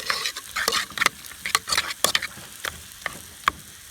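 A slotted spoon mashes food in a pan while cooking pork chops with cream gravy, giving a steady series of sharp taps and scrapes against the pan amid a light sizzle.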